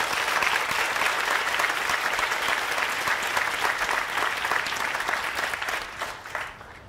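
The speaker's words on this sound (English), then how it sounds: "can we please just get another huge round of applause for the amazing," An outdoor audience at a 2021 graduation ceremony at Buckley Country Day School gives sustained, dense applause that holds steady for several seconds before fading away near the end.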